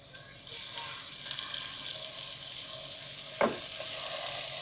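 Meatballs frying in hot oil in a pan, a steady close hiss of sizzling with a brief sharp clack partway through.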